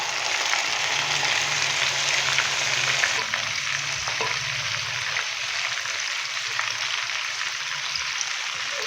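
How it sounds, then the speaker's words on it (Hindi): Marinated chicken sizzles and fries in a pan over browned onions, a steady dense crackle that holds loud and close throughout with a brief stirring scrape partway through. "अभी मैं इसके अंदर डालूंगा मैरिनेट किया हुआ चिकन"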